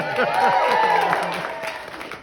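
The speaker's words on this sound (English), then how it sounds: "Let's cheer!" A stage audience at a live Halloween event cheers and applauds in a brief, loud burst, with a voice calling out over the crowd noise.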